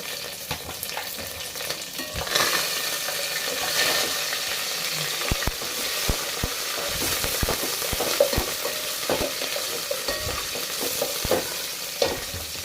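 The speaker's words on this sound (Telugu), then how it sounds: "పుదీనా కరివేపాకు పచ్చిమిర్చి వీటిని బాగా ఫ్రై చేసుకోవాలి" Mint, curry leaves and green chillies frying for Hyderabadi bagara rice, a steady sizzle that swells after a couple of seconds, with frequent sharp spatula scrapes and taps against the pan.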